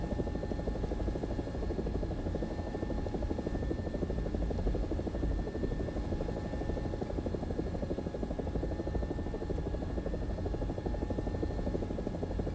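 Italian AB 205 A-1 utility helicopter, a UH-1H variant, flying in a combat video game: a steady, loud rotor and turbine drone with a constant thumping pulse, unbroken throughout with no talk.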